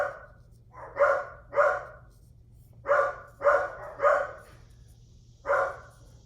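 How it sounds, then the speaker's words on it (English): A dachshund barks loudly and nearby: seven sharp barks, some in quick pairs and triplets, separated by short pauses over a low steady hum. "a dachshund. They're very loud dogs."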